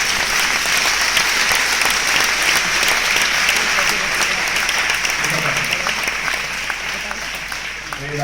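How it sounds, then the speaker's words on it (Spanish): Sustained applause from a large audience of several hundred at a talk, dense and steady for about eight seconds, fading slightly toward the end, with no speech over it. "El aplauso os vuelve porque lo habéis reconocido en vosotros, en vosotras."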